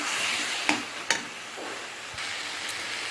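Onion, tomato and ginger garlic paste sautéing in a pan for prawn thokku, a steady close sizzle broken by a few short clicks of a spoon stirring against the pan.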